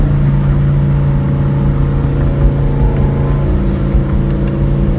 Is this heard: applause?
no